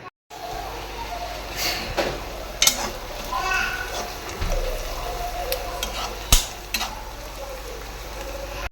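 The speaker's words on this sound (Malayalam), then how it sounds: "സബോള വറുത്തെടുക്കാൻ വേണ്ടി വെച്ചിട്ടുണ്ട്." Sliced onions fry and get stirred in a pan, a low steady sizzle with scraping clinks of the utensil against the pan, while someone talks and children are heard nearby.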